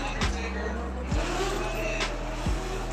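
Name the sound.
drift car with 2JZ engine revving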